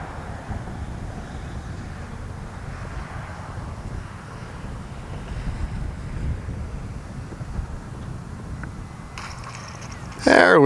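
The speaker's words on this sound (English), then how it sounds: "It's windy." Steady low wind rumble buffets the microphone throughout, with a sudden louder burst of noise at the very end.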